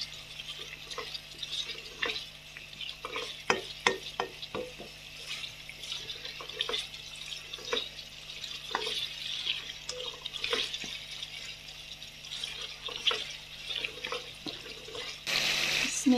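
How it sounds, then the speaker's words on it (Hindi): Boneless chicken fries in a handi for a white qorma while a spoon stirs it, giving a soft sizzling wash broken by repeated scraping and clinking strokes, close and steady without talk. "यहाँ पे हम इसको अच्छे से फ्राई कर लेंगे।"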